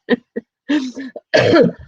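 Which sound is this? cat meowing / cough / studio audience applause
cough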